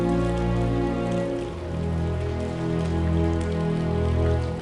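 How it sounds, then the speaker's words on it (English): Rain falls steadily during a winter storm in South Africa, a dense, continuous patter with a low rumbling undertone that swells and eases slightly, with no voices. "A storm is coming and rain does not stop for the next 24 hours."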